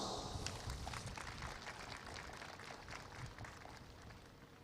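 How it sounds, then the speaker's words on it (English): Applause from an audience welcoming the parish priest at a Catholic youth federation jubilee session, a steady dense wash of many hands clapping throughout, fairly distant and even in level. "Please, let us welcome him with a round of applause"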